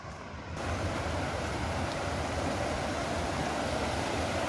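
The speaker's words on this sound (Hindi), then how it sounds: "यहाँ पानी का फ्लो और ज़्यादा है, आवाज़ से ही लग रहा है।" A river tributary in the Kotabagh hills near Nainital rushes strongly, a steady loud broadband roar of fast-flowing water that fades in after a brief quieter moment and continues unbroken.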